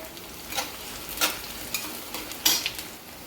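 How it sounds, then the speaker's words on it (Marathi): Green chillies, onions and peanuts sauté in a pan for poha, giving a soft, steady sizzle broken by a few brief scraping stirs of a spatula. "हिरवी मिरची पण अशी छान परतून घ्यायची."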